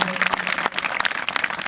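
Audience at a school function claps loudly and steadily, a close, dense burst of many hands with uneven sharp peaks.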